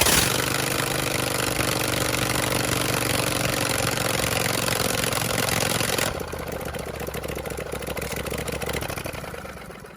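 John Deere LA165 lawn tractor engine running after starting with choke on and throttle half open, a loud steady idle that drops to a lower, rougher level partway through and runs on without talk.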